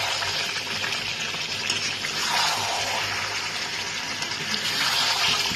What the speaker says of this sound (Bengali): এবার এর মধ্যে আমি করে রাখা গরম জলটাকে দিয়ে দেবো।